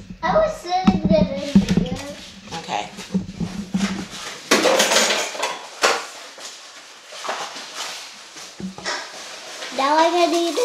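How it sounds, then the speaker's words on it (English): Dishes, pots and cutlery clatter and clink into a kitchen sink in repeated close knocks and scrapes, mixed with a child's and adults' voices talking over the clanking. "Put the dishes in the sink for me, please."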